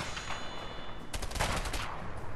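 Enemy gunfire cracks in a dense volley of rapid shots in the co-op video game A Way Out, loud and close, with a sharp cluster of blasts near the middle and no speech.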